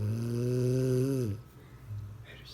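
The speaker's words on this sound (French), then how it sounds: "Et tu veux que je monte une vidéo, genre? De moi qui ronfle?" A person snores while asleep: one loud, droning, buzzy snore lasting just over a second, close to the ear, then quiet breathing noise.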